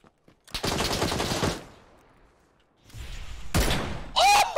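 Gunfire from the video game PUBG bursts out in a loud rapid volley, falls quiet, then cracks again in a shorter, sharper burst with a ringing tone at the end.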